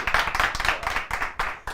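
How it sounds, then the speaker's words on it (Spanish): An audience claps for Pablo at a 2018 debate program, a brief burst of brisk, dense applause from a modest crowd, steady and close. "Le damos un aplauso también a Pablo."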